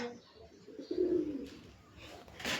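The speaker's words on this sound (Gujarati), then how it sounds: "એક કબૂતર અંદર રહી ગયું ને આપણે બહાર કાઢ લઈ" A pigeon trapped indoors gives a single low, throaty coo close by, followed by some faint rustling and shuffling.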